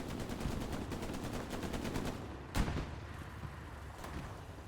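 A machine gun fires rapid, evenly spaced bursts in a Hell Let Loose match, followed by a single sharper, louder shot near the middle before the shooting fades into background rumble.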